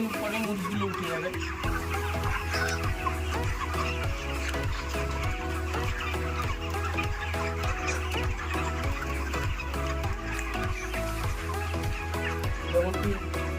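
Inside a poultry farm, many chickens cluck and murmur continuously at close range over a steady, regularly pulsing mechanical hum, and a voice may be faintly present.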